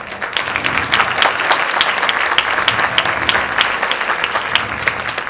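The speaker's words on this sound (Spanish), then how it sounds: "Aplausos para Pili Soy Yo." Steady crowd applause fills a cultural centre hall during a live comedy contest, a dense wash of clapping holding at a constant level throughout with no voices on top.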